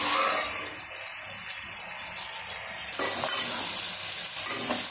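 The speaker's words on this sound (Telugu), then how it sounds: "మనకి చికెన్ ముక్కలు ఆయిల్లో కొంచెంసేపు వేసుకోవాలండి" Chicken pieces fry in hot oil for kodi koora, giving a steady sizzle that suddenly swells into loud, bright crackling, with occasional stirring scrapes in the pan.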